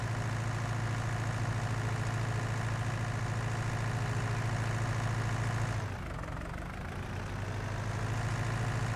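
A tractor engine idles in Farming Simulator 19, a steady low rumble that holds constant, then dips briefly and settles back to the same idle.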